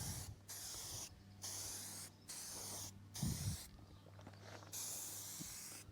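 Several bursts of spray paint hissing onto a steel planter box frame, each burst lasting about a second with short pauses between, close and steady, with a brief low thump partway through.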